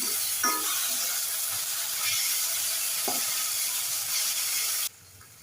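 Veg Manchurian is stir-fried in red chili sauce and soy sauce, a loud continuous sizzle broken by a few scraping stirs, then cutting off abruptly near the end; no speech.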